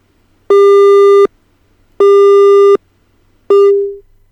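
A telephone busy signal from a failed call connection sounds three times, each a loud, steady electronic tone lasting under a second, evenly spaced with short silences between, the last one cut short.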